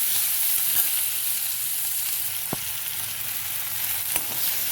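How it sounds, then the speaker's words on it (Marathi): Chopped onion, coriander leaves and a little turmeric sauté in a hot pan for a dry green bean and cauliflower bhaji, giving a steady, even sizzle with a couple of faint utensil taps and no talking. "आणि कोथिंबीर, त्याचबरोबर थोडीशी हळद हे आता छानपैकी गुलाबी रंगावरती परतून घेऊया."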